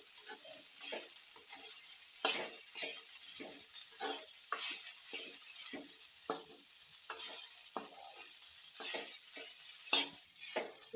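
Jeera rice being stirred in a pan over a low flame, a steady soft sizzle with repeated scraping strokes of the spoon through the grains, close and alone without talk.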